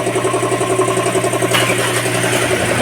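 A Mitsubishi Strada Triton pickup engine idles close by at a steady, even rumble, with a slight shift in tone partway through and no voices.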